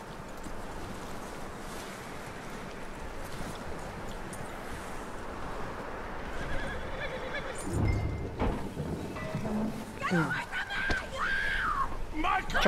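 Horse in the video game Red Dead Redemption II whinnying and stepping, hoof sounds and a couple of neighs rising late, over a steady wash of wind or surf, with talk nearby.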